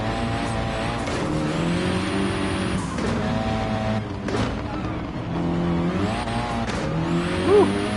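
An 80s Audi race car sliding around a dirt track in a sim racing game, its engine droning steadily with rising and falling revs, shifting gears, close and continuous with faint tire scrub.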